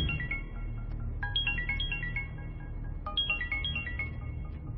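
A melodic electronic phone ringtone plays in two repeating bursts of rising and falling tones over a low background hum.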